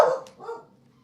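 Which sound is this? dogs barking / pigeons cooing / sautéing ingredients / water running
dogs barking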